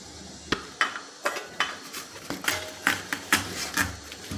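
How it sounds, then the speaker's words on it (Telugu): A knife cuts through a watermelon on a kitchen surface, producing a series of sharp, irregular knocks and thuds close by, spaced about half a second apart, with no voices. "ఇప్పుడు వాటర్ మిల్లన్ కోస్తున్నామండి"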